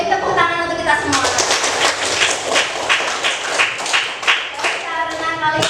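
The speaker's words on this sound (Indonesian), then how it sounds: "tepuk tangan untuk kita semua" A classroom of students claps in a rapid, rhythmic pattern, the sharp group claps set in repeated bursts while a teacher's voice is heard over them.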